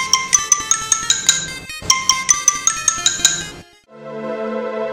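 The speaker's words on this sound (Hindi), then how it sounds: "मम्मी जी, जरा फोन बज रहा है," A phone ringtone plays a repeating electronic melody in quick bright pulses, pauses briefly, then a different sustained tone follows; no talking.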